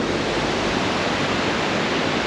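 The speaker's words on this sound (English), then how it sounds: "I have just arrived at the waterfall, which is right in the heart of the town." A waterfall in the heart of a town roars with a steady, dense rush of falling water, loud and unbroken throughout with no voices.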